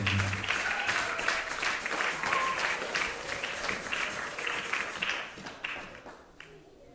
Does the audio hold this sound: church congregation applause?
yes